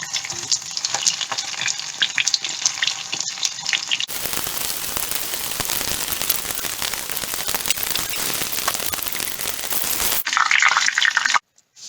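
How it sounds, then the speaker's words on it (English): Korean fried chicken pieces fry in hot oil with a dense, steady sizzle that swells louder midway and then drops back before cutting off. "then you go fry back again, 3 minutes one side, 3 minutes the other side"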